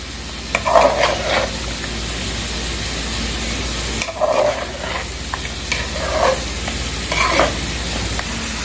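Chicken biryani ingredients with yogurt stirred in a pot, a continuous loud sizzle broken by several bursts of spoon scraping and mixing at irregular intervals, close up and without speech.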